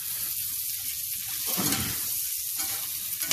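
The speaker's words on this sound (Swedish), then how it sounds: "nu ska potatisen stekas här då" Potatoes fry in a home kitchen pan, a loud steady hiss and crackle of hot fat with surges as the pan is stirred or shaken.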